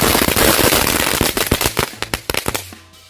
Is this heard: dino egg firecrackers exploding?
yes